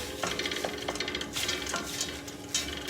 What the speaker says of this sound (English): Sling that in as well. Give it a stir.